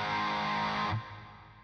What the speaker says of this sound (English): Yet when you put the distortion on,